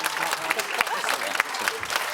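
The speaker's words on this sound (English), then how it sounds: "Give him a little clap," Studio audience on a Celebrity Big Brother spin-off show claps in a short burst of close, brisk hand claps, with voices talking over it.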